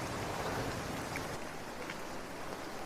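Steady rain falling in a Kerala yard, a dense continuous hiss of drops on surfaces with no voices.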